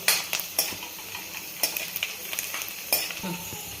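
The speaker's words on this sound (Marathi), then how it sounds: "खरपूस असे तुपामध्ये तळून कडक करून घ्यायचे" Cashews and almonds frying in ghee in a pan for Ramadan shir khurma give a steady crackling sizzle, with sharp scrapes and clinks of a spoon stirring against the metal at intervals, close and moderately loud, no talking.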